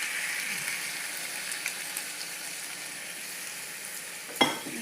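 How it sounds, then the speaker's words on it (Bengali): Milk poured into a hot pan of chicken and garlic sizzles and crackles steadily, a close, continuous frying hiss with a sharper burst near the end. "এবারে দুধটা আমি দিয়ে দিচ্ছি"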